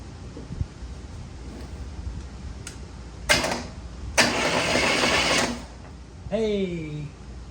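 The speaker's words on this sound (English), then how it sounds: "we're going to try to start it with a starter just to see if it does anything" A 1965 Chevrolet Bel Air engine is cranked with its starter in two bursts, a short one and then a longer steady grind. A voice follows right after, and the engine does not clearly catch.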